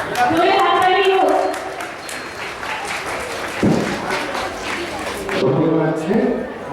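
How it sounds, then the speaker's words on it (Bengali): An audience at a Santiniketan School of Art event breaks into sustained applause, thick clapping that fills the room, with a voice speaking over it near the start and end. "জোরে হাততালি হোক।"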